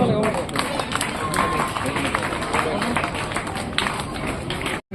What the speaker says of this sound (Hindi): बच्चों तालियां शुरू कर दो।